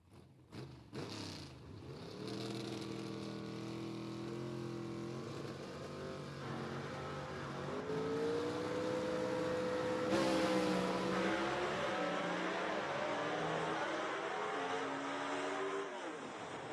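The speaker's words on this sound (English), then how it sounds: "Rainwater, you heard his car rev up out there like he missed a shift" Gasser drag race car at Rockingham Dragway making a sustained, loud engine roar, its pitch climbing and shifting through gear changes with a sudden rev flare as if a shift is missed, heard at a distance over the track.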